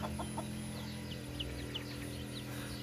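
A brooding hen clucks in short, quick bursts during a scuffle with an AmStaff dog, faint and somewhat distant over a steady background hum, the calls scattered irregularly across a few seconds.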